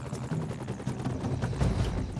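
A helicopter in the video game Broforce gives off a close, continuous low rotor thump and engine rumble with a gritty wash of noise over it, steady and loud throughout.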